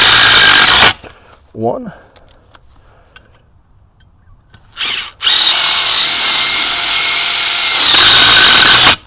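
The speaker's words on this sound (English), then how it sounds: "and then just go ahead and screw right in." Power drill driving screws into a greenhouse truss, with two loud bursts of whirring, a short one near the start and a longer sustained one later, separated by quieter handling noise and a brief spoken word.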